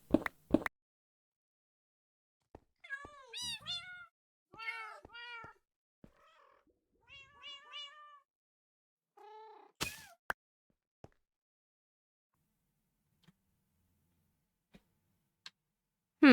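Cats meowing in a video game, several distinct short meows in a cluster, then a gap and one more, with faint clicks and ticks scattered through otherwise quiet surroundings.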